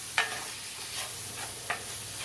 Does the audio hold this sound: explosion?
no